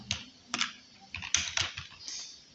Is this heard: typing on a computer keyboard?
yes